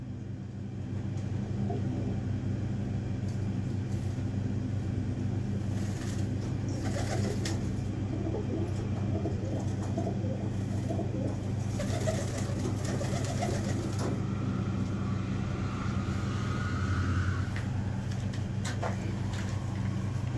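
A Teddy pigeon hen coos with a low, continuous murmur amid other birds, steady and moderately close, with faint rumbling traffic in the background and no talking.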